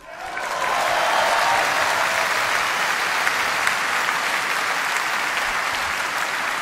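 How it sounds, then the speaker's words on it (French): Audience at a political rally applauds, a dense, steady burst of clapping that swells quickly and holds loud throughout, with a faint murmur of the crowd underneath. "Je devais vous demander d'applaudir Marion Maréchal, mais je crois que vous l'avez déjà fait."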